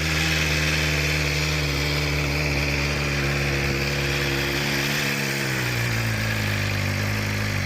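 A BMW M1000RR superbike idles after a cold start, a loud, steady close-up engine drone whose pitch drops as the fast idle settles toward the end, with no talking.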